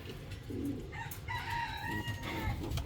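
Chickens in a backyard coop cluck and call continuously at close range, with several overlapping bird voices and steady background noise.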